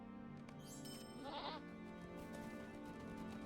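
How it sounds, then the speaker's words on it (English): Mountain goats bleat in the Lord of the Rings Online game world, a short wavering call rising briefly over a steady layer of ambient game music and background sound. "These pretty mountain goats!"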